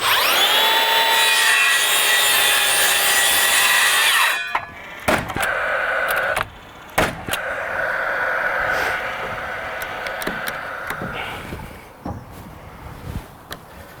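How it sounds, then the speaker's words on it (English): Handsaw cutting through timber roof rafters, a steady rasping stroke sound loud for about four seconds, then broken, irregular sawing and knocking with pauses as the cut continues nearby. "I'm going to cut another pair of rafters in here"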